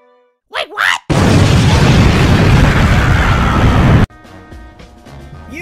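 A cartoon explosion erupts after a brief voice: one loud, roaring blast that holds steady for about three seconds, then cuts off abruptly to quieter background music.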